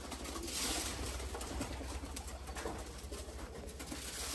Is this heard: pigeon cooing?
yes